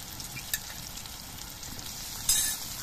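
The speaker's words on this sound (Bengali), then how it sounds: "আদা বাটা দিয়ে আমি 1 মিনিট ভেজে নেব" Ginger paste frying in a pan with softened onions, a quiet steady sizzle with a couple of faint utensil clicks.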